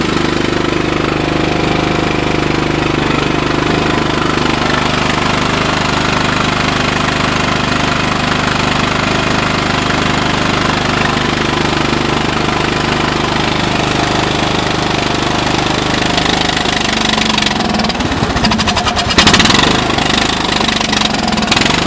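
A cold-started 2002 Sears LT1000 lawn tractor engine, running without its air filter, idles loudly in a steady rough chug, then falters and clatters near the end.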